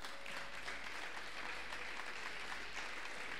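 A church congregation applauds at a worship service, a faint, steady wash of many hands clapping at a distance, continuous and unbroken throughout.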